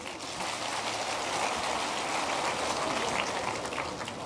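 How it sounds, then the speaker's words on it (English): An audience at an accountants' institute event in Kenya gives a sustained round of dense, even applause that sounds like heavy rain, with no voices over it. "And we need to give him a big round of applause again."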